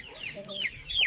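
A hen, the mother of a prized fighting rooster, gives several short clucks and rising squawks, close and moderately loud, in a brief burst.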